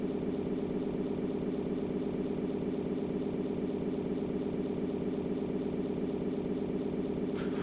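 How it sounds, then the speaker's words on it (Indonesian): A motorcycle engine idles steadily at close range, a continuous low throbbing hum with no revving, running alone without talk. "dengerin suara motornya guys"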